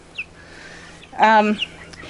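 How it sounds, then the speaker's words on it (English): A chicken, rooster or hen uncertain, gives one short, loud, close cluck-like call outdoors after rain, with a faint chirp before it and quiet surroundings. "we have no idea if this is a rooster or a hen"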